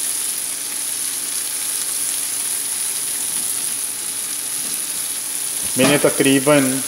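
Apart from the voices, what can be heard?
onions frying in a pan for poha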